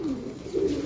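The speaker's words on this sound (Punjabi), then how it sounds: "ਪਾਵਰ ਦੇ ਕਬੂਤਰ ਨੇ" Prized high-flying pigeons at a Lahore pigeon keeper's loft give a short, close, low cooing call that swells near the end, with no talking.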